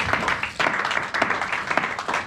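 A church congregation claps during a sermon, a brief, fairly loud burst of dense hand-clapping with uneven bursts of sharper claps.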